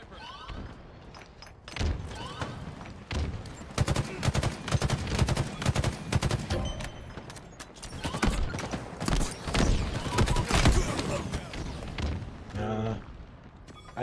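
Rapid gunfire bursts and rocket explosions in the video game Halo Infinite, dense sharp cracks and booms piling up through most of the stretch, with a voice talking faintly underneath.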